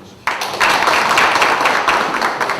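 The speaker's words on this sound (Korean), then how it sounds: "힘찬 박수 부탁드리겠습니다." An audience at a political party policy meeting breaks into applause, a dense burst of many hands clapping that starts abruptly and holds steady and fairly loud for a couple of seconds.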